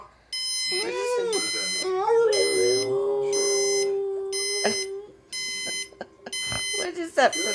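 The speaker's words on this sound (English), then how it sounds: "Is that the alarm clock?" An alarm clock rings indoors in repeated bursts of beeping, loud and close, while a dog whines and howls in rising, wavering tones alongside it.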